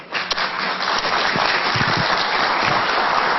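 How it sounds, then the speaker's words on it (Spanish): An audience at a conference in Santiago del Estero applauds, a steady dense clapping that fills the whole stretch; no speech. "Vamos a dar un aplauso."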